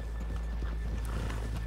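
Horses in the video game Red Dead Redemption 2 trot with a run of quick hoof clip-clops, soft and somewhat distant over a low rumbling background, with a faint whinny.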